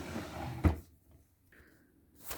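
A makeup storage drawer slides open with a short sharp knock, followed by quiet handling and a faint rattle before another soft thump at the end.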